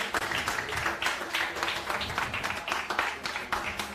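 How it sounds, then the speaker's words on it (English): Scattered clapping from a modest audience at a smart meter hackathon awards ceremony, a steady, moderately quiet patter of hands with uneven bursts throughout. "A warm round of applause for them."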